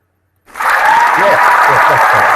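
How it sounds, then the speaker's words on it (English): After a short silence, a live studio audience bursts into loud, sustained applause that continues steadily to the end, with a faint voice murmuring underneath. "Always nice to get a round of applause."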